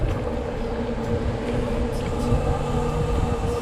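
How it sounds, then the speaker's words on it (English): A train with a caboose rolls past in rural Quebec, a steady, close rumble of wheels and cars with low droning tones and occasional metallic squeals, continuous and loud throughout. "Little caboose here."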